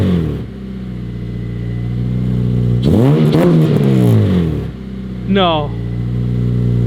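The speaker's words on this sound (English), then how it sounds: "Rev it a little bit. Rev it." An 8th-generation Honda Civic Si with Skunk2 Alpha headers revs hard twice up close, the engine climbing and falling over a steady idle, while a voice speaks briefly between the revs.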